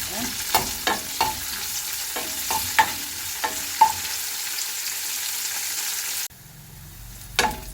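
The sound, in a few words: curry leaves and onion frying in oil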